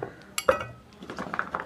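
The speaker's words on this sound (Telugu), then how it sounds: "ఈ మిక్సీలో వేస్తున్నాను." Chopped carrots are dropped into a steel mixer jar, giving a few soft clinks and knocks with one sharper clatter, quiet and close, with no talking.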